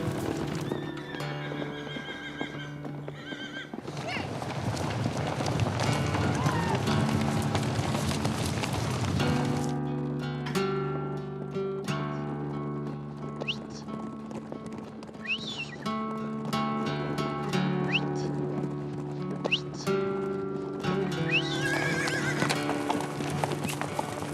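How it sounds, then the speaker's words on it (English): Horses neigh and whinny repeatedly while hooves clip-clop over the ground in the mountains around a ranch at sunset, loud nearby calls rising over steady hoofbeats. "they let the horses loose at sunset so they can spend the nights roaming freely in the mountains"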